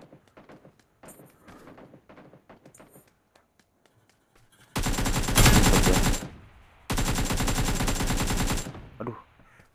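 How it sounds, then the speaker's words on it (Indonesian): Enemy gunfire in the mobile shooter PUBG New State: two long, loud sustained bursts of automatic fire with a brief gap between them, following quieter game sounds and scattered single shots. "Ada musuh nembak dong."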